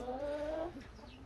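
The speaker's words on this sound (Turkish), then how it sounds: "Burada bir tane tavuğumuz var yumurta yapan." A laying hen clucks nearby, one drawn-out call followed by a shorter murmur, with no talk over it.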